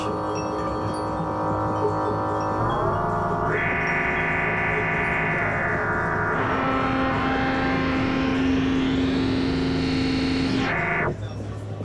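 Sustained metallic synthesizer tones from a Shakmat Bishop's Miscellany Mk2 synth module at Superbooth, buzzy and ringing, step between pitches and sweep upward before cutting off, with no voices.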